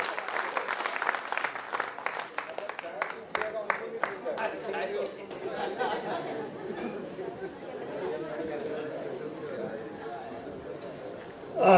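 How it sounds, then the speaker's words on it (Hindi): Enthusiastic applause from the audience at a Malvi comedy poetry gathering, dense clapping that thins and fades into murmuring crowd chatter, with a hall full of voices carrying on beneath it. "पूरा सदन एक बार जरा जोरदार तालियों से खड़ा।"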